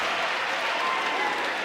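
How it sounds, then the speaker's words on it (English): A basketball crowd at a Miami vs. Duke ACC men's game cheers and claps for Hubbard, a dense, even wash of applause and whooping filling the arena. "And the crowd whoops it up for Hubbard."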